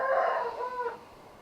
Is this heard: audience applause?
no